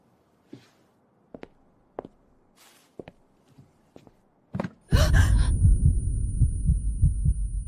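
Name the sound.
heartbeat sound effect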